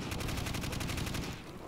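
Rapid automatic gunfire in Call of Duty World at War custom zombies, a steady burst of evenly spaced shots that continues before tapering off near the end, loud and close.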